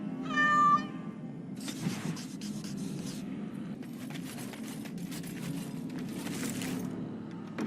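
A cat meows in Dragon Age: Origins – Awakening, one clear rising mew near the start, followed by steady game ambience and scattered soft rustling with no voices.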